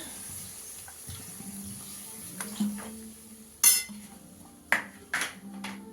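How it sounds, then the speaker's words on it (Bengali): Water trickles and splashes into a pan of fish curry with eggplant, a few soft pours and clinks against a quiet kitchen background, close by. "একটু জল দিয়ে দেবো অল্প করে।"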